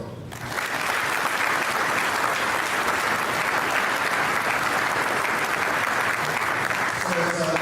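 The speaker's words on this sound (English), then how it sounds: "let's really give them a round of applause for putting this event on" A banquet crowd at a North Dakota football event breaks into loud, sustained applause that swells quickly and holds strong, with a voice briefly audible near the end.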